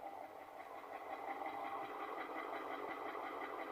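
A car engine idles with a fast, steady ticking chatter from faulty hydraulic lifters layered over a constant mechanical whir, recorded fairly close with no talking.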